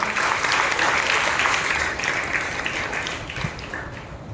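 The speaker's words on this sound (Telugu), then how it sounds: "బిగ్గరగా చప్పట్లు కొట్టి ప్రభువును మహిమపరచండి" A church congregation at Sunday worship claps loudly in praise, a dense, sustained burst of applause close by that eases slightly toward the end, with faint voices mixed in.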